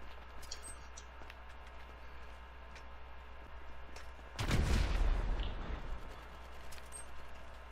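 A single loud, booming gunshot burst in the video game GTA V Online, fired through a wall, with a short echoing tail over quiet game ambience.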